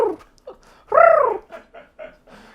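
In a tiny kitchen, a human voice imitates a bird. It gives a few short chirps and then a loud, close squawk that rises and falls, followed by more brief chirping calls.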